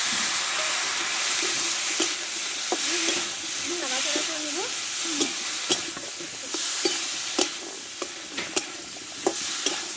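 Cashew, melon seed and white mustard paste fries in a pan as a little water goes in, giving a loud steady sizzle with spoon scrapes and stirring clicks scattered over it.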